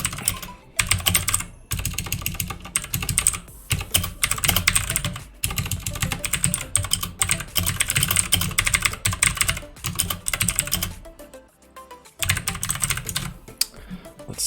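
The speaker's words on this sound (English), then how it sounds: "Loud ass keyboard time." A loud computer keyboard clacks in fast, dense bursts of typing, close up, with a few short pauses between runs of keystrokes.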